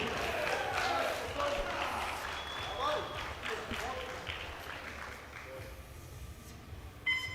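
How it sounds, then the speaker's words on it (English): Crowd applause at a powerlifting championship, a broad wash of clapping and cheering from the audience that gradually fades, with an announcer's voice over it. "Give her a big round of applause."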